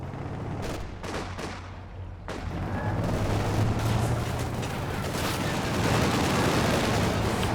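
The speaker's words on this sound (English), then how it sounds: "Big burst from the quad." An anti-aircraft quad gun in the Company of Heroes 2 video game fires a long dense burst, a sustained roar of rapid gunfire after a few separate sharp shots at the start.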